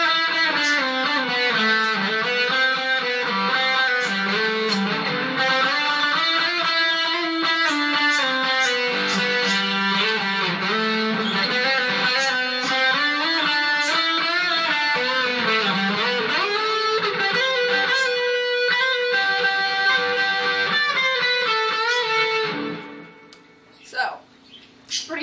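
Electric guitar plays the interlude solo, a continuous melodic lead with sustained bends and vibrato, loud and clear, then cutting off into a few scattered noises near the end.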